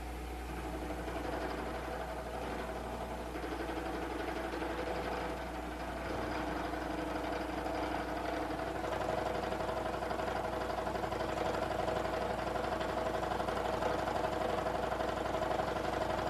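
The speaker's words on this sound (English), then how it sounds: "our form tool is going to start profiling now our block of aluminum to our finished dimension" A CNC form cutter profiles a block of aluminum to finished dimension, a steady droning machine hum with a continuous low whine that builds slightly louder later on.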